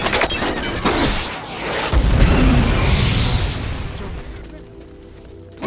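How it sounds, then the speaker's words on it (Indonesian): A film action scene where an automatic robot gun fires on a car until it blows up: a heavy, rumbling explosion swells and roars for several seconds under mechanical clatter, then the debris noise tapers off. "tiba-tiba ada sebuah senjata robot otomatis yang menembaki mobil Jonas hingga meledak"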